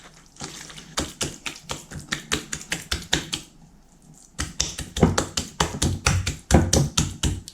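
Rapid, rhythmic wet slapping and squelching as minced meat for cutlets, with cold water added, is kneaded by hand, repeated steadily with a brief pause midway.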